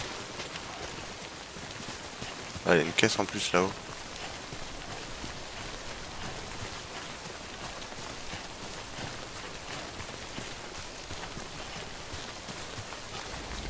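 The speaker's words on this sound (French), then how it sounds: "Ah, il pleut." Steady rain falling in Death Stranding, a soft continuous hiss of drops filling the whole scene, with a short burst of speech briefly rising over it.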